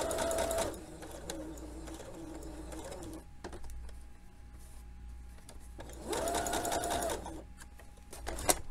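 A home sewing machine runs in two bursts, stitching a lowered crotch seam on trousers without backstitching, each burst lasting under a second with a brief quiet pause between them.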